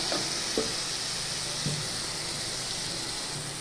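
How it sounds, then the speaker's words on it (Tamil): Onion, tomato, ginger-garlic paste and curry leaves fry in oil in a steady, soft sizzle, a faint continuous hiss with a few small pops near the start. "வெங்காயம் தக்காளி இஞ்சி பூண்டு பேஸ்ட்டு கருவேப்பிலை எல்லாம் பாருங்கள் நல்லா விதங்கிடுச்சு"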